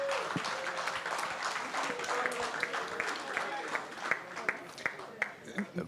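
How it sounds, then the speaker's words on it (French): Audience applause at a retirement program launch ceremony, a moderate crowd clapping throughout, with sharper individual claps standing out toward the end and a voice faintly present underneath. "je vous demanderai d'applaudir et sans aménagement"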